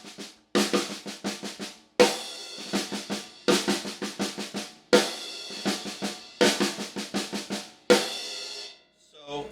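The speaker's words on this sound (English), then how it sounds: "The snare drum part" Snare drum part of a beat from a song, played alone with clear strokes in short repeating phrases, each bar opening with a sharp accent followed by quicker ruffs and taps, close and dry.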